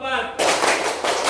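A brief spoken voice gives way to a class of students clapping in unison on a count in an Indonesian school, with two loud, sharp group claps about half a second apart.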